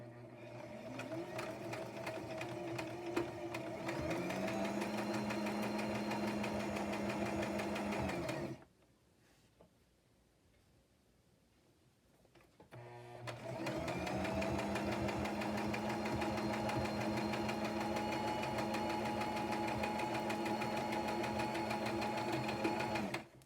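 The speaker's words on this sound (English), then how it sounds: "I'm going to do a straight stitch on this one" A sewing machine runs in a steady, fast stitching whir, stops for a few seconds of near silence, then starts again and stitches on steadily.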